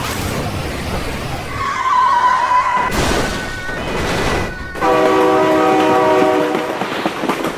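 Train in BeamNG.drive rushing past with its horn blaring in two long sustained blasts over heavy rumbling rail and wheel noise, loud and close throughout.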